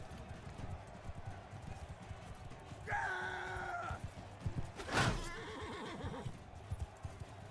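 Horses in the Mount & Blade II: Bannerlord video game whinny and snort during a battle, with hoofbeats under a low rumble of fighting. A sharp loud burst lands near the middle and scattered clatter continues after it.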